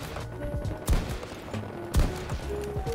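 Two sharp sniper rifle shots in the video game Battlefield 2042, about a second apart, each a loud crack over a steady bed of in-game ambience and music.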